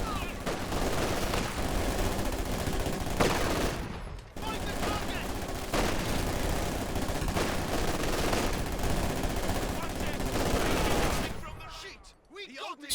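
PPSh submachine gun fire in Company of Heroes 2, several guns rattling at once in a dense, continuous loud barrage with scattered explosions, briefly dropping out once and then fading near the end.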